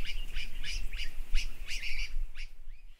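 Birds call repeatedly over a lake in the Margalla Hills, where black kites and kingfishers gather; sharp rising chirps and whistles recur at an uneven rhythm over a low ambient rumble.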